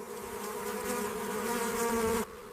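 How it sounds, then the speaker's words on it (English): Dense, steady buzzing of honeybees swarming to defend a damaged hive in the African savannah, close and loud, cutting off abruptly near the end. "At the hive, bees cluster around the damaged root and begin defending the remaining comb."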